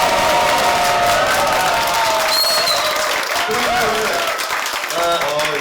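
A large live audience at a public broadcast of a Korean current-affairs talk show claps loudly and continuously, with some cheering, while voices talk over the applause.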